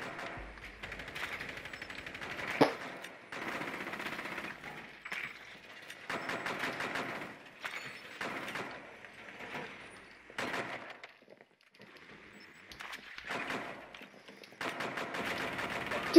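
Rapid bursts of gunfire from the video game Rainbow Six Siege come in repeated volleys with short pauses, fairly loud and mixed with game effects, while players talk over the action.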